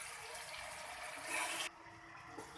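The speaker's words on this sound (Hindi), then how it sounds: "हमने इसके अंदर डाल दिया है 1 गिलास पानी।" Water from a glass poured into a pot of sautéed bottle gourd and chana dal, a soft, steady splashing and trickling that swells briefly and then drops to a quiet hiss.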